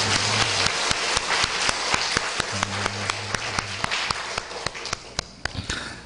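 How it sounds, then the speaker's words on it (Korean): A church congregation claps together in a steady burst of applause that fills the room, with a sustained organ or keyboard tone beneath it and some scattered louder claps. "하나님께 영광의 박수 올려드리겠습니다."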